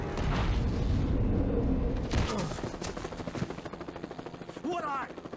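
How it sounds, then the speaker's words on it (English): Gunfire in the video game Alan Wake, dense rapid bursts of shots with a booming low rumble, tapering into a rattling string of separate cracks as voices sound over the action. "Why are they just shooting at him?"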